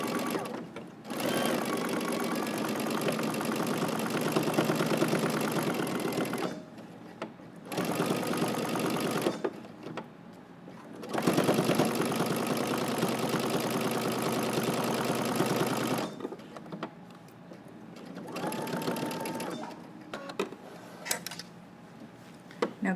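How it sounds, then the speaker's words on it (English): A sewing machine runs in several sustained bursts, stopping and restarting as it back stitches a dart on a jacket, a steady close whir with short quiet gaps between runs. "Okay, I'm going to start in the center, I'm going to back stitch."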